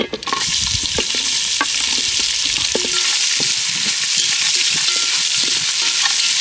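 Onions sizzling with cashews in hot oil in a pan for chicken biryani, a steady loud fry hiss with scattered stirring scrapes and clinks, close and continuous with no talk.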